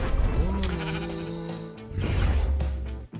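Sheep bleat repeatedly in the Minecraft video game, with wavering, nasal calls that overlap and continue loudly and close throughout.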